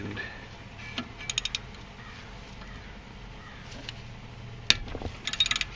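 Loctited screws are worked loose on the front-wheel ABS sensor of a Mercedes CLK 320, with quiet bursts of ratchet clicking in short rapid runs and a sharp metallic snap amid faint background hum.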